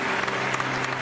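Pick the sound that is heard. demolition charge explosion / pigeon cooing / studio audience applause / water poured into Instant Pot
studio audience applause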